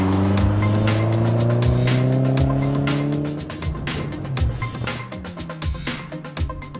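A Lotus Esprit, the British sports car, roars along a track, its engine note climbing through the gears at close range, then breaking into choppy revving with tire squeal as it corners.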